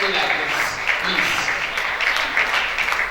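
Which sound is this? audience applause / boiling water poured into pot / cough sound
audience applause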